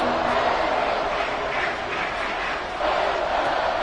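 A packed football stadium crowd roars on third and inches, trying to force a false start: a loud, sustained wall of cheering and yelling that swells and dips slightly, with a commentator talking over it.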